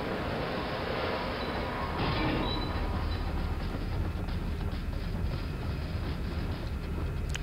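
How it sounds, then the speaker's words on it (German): An elevator in the video game Soldier of Fortune, heard as a continuous loud mechanical rumble and rattling clatter that persists steadily without pause. "wenn dieser Aufzug auch die ganze Zeit schon wieder hoch und runter fährt"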